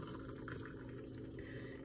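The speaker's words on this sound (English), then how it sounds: "And I love to fill my cup all the way to the top." Water pours into a tea cup at night, a steady, quiet filling gurgle that holds for a couple of seconds with no talk.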